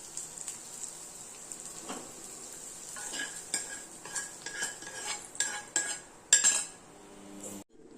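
A spoon stirs and scrapes a small pan of sizzling tempering of onion, green chilli, curry leaves, ginger, mustard seeds and dals in oil, with light metallic clinks and a soft fry under intermittent stirring strokes.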